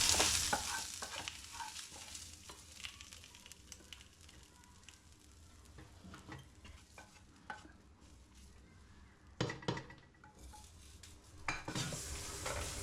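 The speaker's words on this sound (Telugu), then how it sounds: "ఇది ఇందులో కలిపేయాలమ్మ. కొబ్బరి అన్నంలో ఇలా కలిపేయాలి." Tempering gets stirred into coconut rice in a pot, a spoon scraping and clinking steadily against the metal with a light sizzle beneath, close and fairly quiet, with a few louder knocks near the end.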